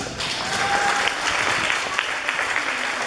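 A crowd at a school diploma ceremony applauds the award-winning children, a steady wash of clapping that carries on evenly for about three seconds without any voices.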